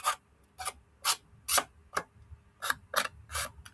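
A sanding block rubs back and forth across a rough cut edge in about nine distinct rasping strokes, close and fairly quiet, with short pauses between passes.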